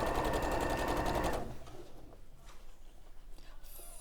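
A sewing machine stitches a bag in a fast, even mechanical whir that stops after about a second and a half, followed by quiet room noise with faint shuffling.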